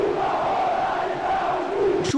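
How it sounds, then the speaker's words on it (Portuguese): A football stadium crowd chants insults in unison, a dense, loud roar of many voices sustained throughout, with a swelling pitch to the massed chant. "Quem que a torcida tá xingando?"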